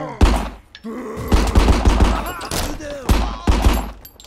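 Loud, rapid bursts of gunfire from the video game RICO, with repeated volleys and heavy thumps close up, a brief lull near the middle before the shooting resumes.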